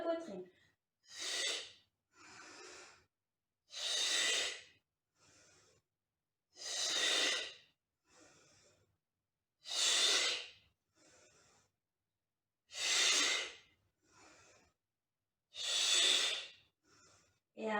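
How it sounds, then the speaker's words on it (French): A person breathes during a pilates exercise, loud close in-and-out breaths alternating strong and softer in a slow, even rhythm, separated by silent pauses. "Et on inspire, on expire, on descend."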